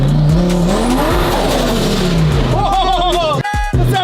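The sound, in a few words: car engine revving and tires spinning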